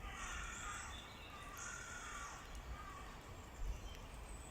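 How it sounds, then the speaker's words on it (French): Crows caw a few times at a distance against a steady outdoor background hum, with calls spaced irregularly. "qu'on entend des corneilles"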